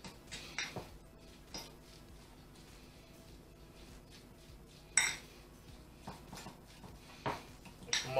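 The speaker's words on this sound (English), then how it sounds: "We just want to break this up with a fork a wee bit." Metal fork scraping and clinking against a bowl while mashing mackerel into a coarse pâté, a few sharp clinks scattered over quiet gaps, close and fairly soft.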